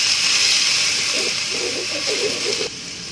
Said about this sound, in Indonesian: Sekarang saya akan menumis bumbu yang sudah dihaluskan